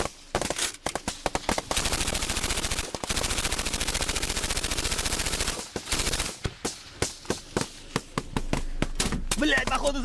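A soldier's rifle fire in Ukraine war footage: long, rapid automatic bursts rattle loudly and close, followed by a series of separate single shots with short pauses between them.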